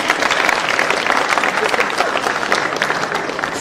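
Loud, sustained audience applause for award runners-up at an Istream Africa ceremony, a dense crowd clapping steadily throughout.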